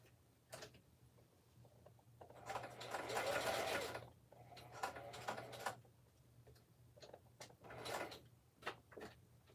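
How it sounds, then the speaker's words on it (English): Sewing machine stitching a handmade card, with a faint rapid mechanical whir that swells into a longer run, then shorter bursts among small taps and handling clicks, close but quiet, with no talk. "I'm going to stitch this other one real quick"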